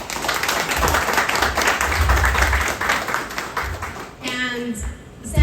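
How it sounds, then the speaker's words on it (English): Crowd at a community appreciation event in Oakland's Little Saigon clapping steadily for a few seconds before the applause dies away and a speaker's voice takes over. "Please give him a round of applause"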